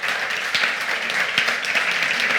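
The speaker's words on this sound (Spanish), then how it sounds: "¡Un aplauso fuerte!" Sustained audience applause at a podcast recording, a dense steady patter of many hands clapping at close range with no break.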